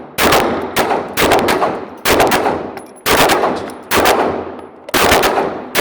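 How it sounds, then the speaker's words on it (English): A CZ P-10C pistol fitted with an HB Industries Theta kit fires six quick bursts of shots at a steady pace, each loud, sharp and close, with a faint metallic ring between them. "5-round burst"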